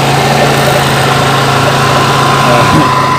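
A Suzuki Nex, Spin or Satria motorcycle engine with a vacuum carburetor being adjusted runs at a loud, steady, close idle with a constant droning hum, and a voice talks briefly under it.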